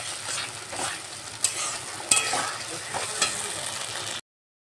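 Ground spice paste with turmeric and water fries in a pan for a chicken curry, a close sizzle broken by several sharp spatula knocks and scrapes, then abrupt silence at the end.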